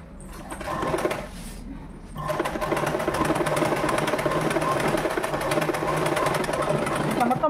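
A sewing machine top-stitches an umbrella frock, running in a loud, continuous mechanical whir after a brief start and pause, with a steady rapid stitching rhythm.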